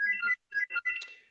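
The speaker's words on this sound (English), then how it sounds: "apologise for the phone ringing in the background" A phone rings in the background during a sports betting discussion, short bright electronic tones in broken bursts with gaps between them, fairly clear and not covered by talk.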